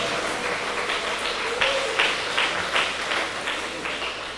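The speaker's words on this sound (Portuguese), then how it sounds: "Dá uma salva de palmas para Jesus" A church congregation claps for Jesus in a sustained, dense round of applause, steady throughout with a few louder swells.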